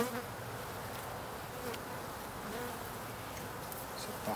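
Honeybees swarming over a brood frame in an open hive, a dense continuous buzzing hum close by with steady loudness throughout.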